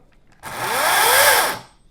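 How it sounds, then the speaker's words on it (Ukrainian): Metabo MS 36-18 LTX BL 40 cordless chainsaw starting up: a loud, close electric whir that rises abruptly, holds steady for about a second, then winds down, with no voices. "і запускаєте пилку"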